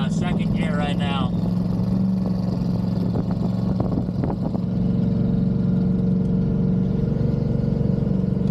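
A car with a TH400 automatic transmission swap cruises in second gear on a freeway, its engine holding a steady, even drone throughout; someone talks briefly over it at the start.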